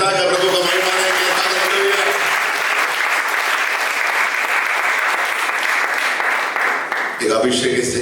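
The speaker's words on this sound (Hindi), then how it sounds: "ताली बजाकर प्रभु को महिमा देंगे।" A church congregation at a Hindi sermon applauds in a dense, steady roar of many clapping hands lasting several seconds before a voice returns.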